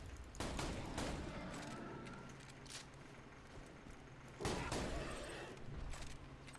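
Two loud, booming blasts from a triple-shot double-barrel shotgun in the Borderlands 2 video game, about four seconds apart. Each blast is followed by a rumbling decay under ongoing game ambience.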